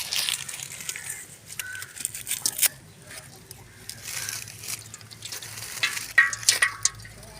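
Banana flower tossed in chilli powder deep-frying in hot oil, giving a steady crackling sizzle with bursts of bubbling, with people talking over it.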